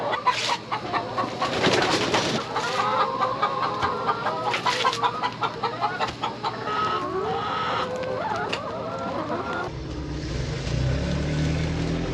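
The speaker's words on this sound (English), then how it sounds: "if you have any leftover sweet corn, chickens seem to love it" Chickens cluck and chatter close by, with a busy run of short calls and pecking as they eat leftover sweet corn on a vegetable farm; the sound drops to a low rumble near the end.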